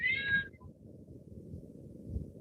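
A cat lets out a single short, high meow at the start, close and clear, followed by quiet low rumbling room noise.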